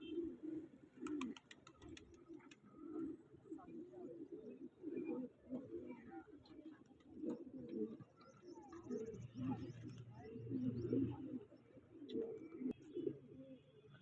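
Soft, repeated cooing of pigeons, low throaty calls overlapping in a steady rhythm, with faint chirps and distant background noise.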